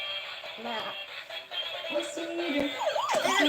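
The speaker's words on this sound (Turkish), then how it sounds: "Ay polis arabası mı o? Bu bir polis arabası." A police car siren wails in the background, its rising and falling tone growing clearer toward the end, while a child and an adult talk over it.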